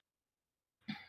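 A single short cough from a man recovering from illness, close and clear after a moment of silence.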